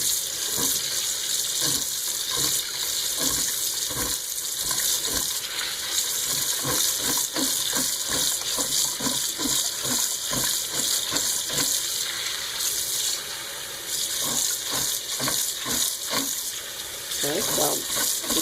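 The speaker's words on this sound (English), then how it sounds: "Just rinse it with cold water." Cold tap water runs steadily over cooked sticky black rice being rinsed in a kitchen sink, a continuous splashing gush with irregular clicks and knocks from the rice and container.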